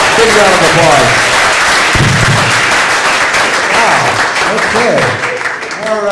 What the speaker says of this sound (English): Give him a round of applause. Big round of applause.